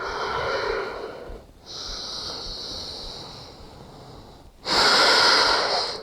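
Deep yoga breathing close to the microphone: a long, airy, rasping exhale fading out, a pause, another drawn breath, then a louder, forceful breath at the end.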